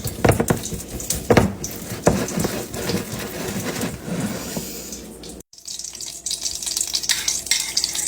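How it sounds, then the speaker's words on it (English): Potato cakes, made from leftover potatoes, frying in butter in a skillet, a busy sizzle with sharp clatters early on, then a brief cut to a steadier, hissing fry. "I'm going to fry them until they're golden brown on each side."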